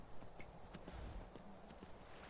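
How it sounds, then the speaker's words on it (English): Horse hooves clip-clop at a walking pace in Skyrim, faint and steady beneath a soft game ambience with no talking. "we'll park our horse somewhere safe this time"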